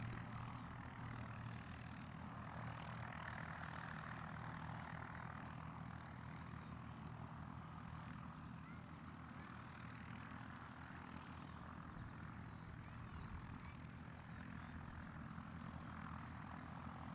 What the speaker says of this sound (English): Good old Twin Star there taking off.